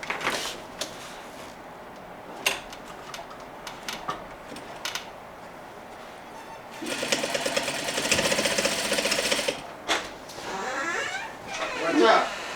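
A sewing machine stitches a chair slip cover in a short, near burst of fast whirring after scattered clicks and handling noises, with brief lighter runs toward the end.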